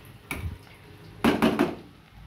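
Nutrela chowmein frying in a pan as it is stirred, a few scraping and clattering strokes of a utensil against the pan, one near the start and a quick cluster of three later, over a faint background hiss.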